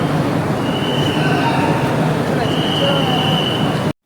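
A Sealdah–Ranaghat AC local train runs with a loud, steady rumble, faint wheel squeals drifting above the roar before it cuts off abruptly.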